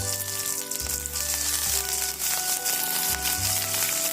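Chopped onion fries in hot oil for a curry leaves pachadi, giving a loud, continuous close-up sizzle over a low hum.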